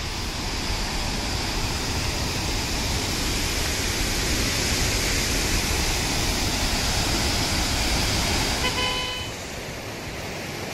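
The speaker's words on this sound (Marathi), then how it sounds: "इथं छोटा असा एक वॉटरफॉल मिळाला आहे" A small mountain waterfall in the Uttarkashi–Gangotri region gives a steady, dense broadband rush of flowing water close by, unbroken and loud, dropping slightly near the end as a faint tone rises briefly above it.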